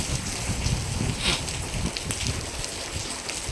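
Steady rain falls outside a house in the early morning after pouring all night, making a dense, even patter with brief louder spatters and some wind rumble, with no voices.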